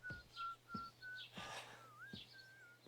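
A character whistles a song in the video game Kingdom Come Deliverance II: a series of short, clear whistled notes, a few rising or sliding, played quietly over a low steady hum with soft thuds between them.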